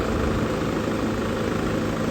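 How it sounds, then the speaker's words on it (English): A Kubota tractor engine runs close by with a steady, rumbling idle and a constant broadband hum, uninterrupted for a couple of seconds. "Let me turn the engine on, move it back"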